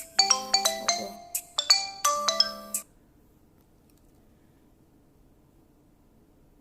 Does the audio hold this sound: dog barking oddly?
no